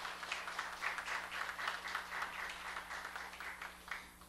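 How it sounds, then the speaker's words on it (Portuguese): Crowd applause at a PMDB political party event, a steady wash of many hands clapping throughout at moderate distance, with a low hum underneath. "Eu peço aqui a todos que aqui estão, merecidamente uma salva de palmas ao exemplo do PMDB, Roberto Furtado."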